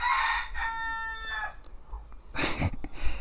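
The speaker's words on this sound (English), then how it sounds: "this chicken is always making noise" A chicken crows and clucks in the background through several short bursts, mid-loud, with no talk over it.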